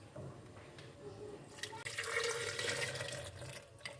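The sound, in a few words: milk being poured into a blender for a dry fruit milkshake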